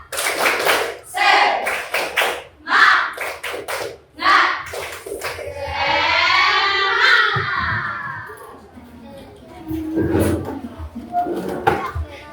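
Children in a classroom repeating the tepuk semangat chant, sharp clustered hand claps interleaved with loud group chanting and a sustained shouted call, followed by a few more claps and voices.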